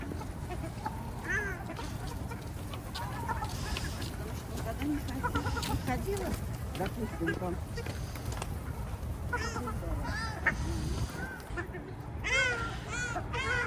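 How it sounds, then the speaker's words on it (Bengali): Pigeons and ducks crowd together in a Moscow park, their quacks and bird calls scattered over constant outdoor hubbub while someone talks through most of it. "দেখেন কতগুলা দেখেন সব এখানে আসতেছে কবুতর হাঁস"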